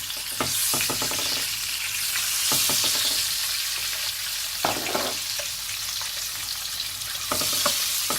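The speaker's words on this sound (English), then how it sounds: "Now I'm going to fry the eggs." Eggs frying in hot oil with spices for a fried egg curry: a continuous close sizzle broken by several sharp scraping stirs and spatula knocks.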